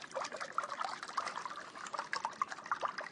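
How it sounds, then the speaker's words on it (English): Vanilla custard poured over the top of a casserole dish, a steady close liquid trickle and splash with small bubbling drips, heard alone. "And pour your vanilla custard down over the top."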